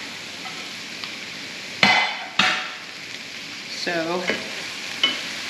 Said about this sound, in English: continue to cook those peppers down a little bit.